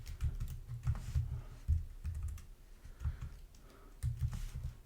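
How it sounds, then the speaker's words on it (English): Steady keystrokes on a computer keyboard while code is written in Java, arriving in quick irregular bursts with short pauses, close and moderately quiet, no voices. "here I'm going to type"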